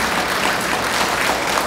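A church congregation applauds in welcome of a visiting priest, a thick, even wash of many hands clapping together that fills the space without pause.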